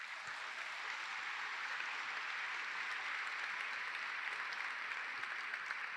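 A church congregation applauding together, a steady, dense wash of clapping that holds evenly from start to finish with no voices over it.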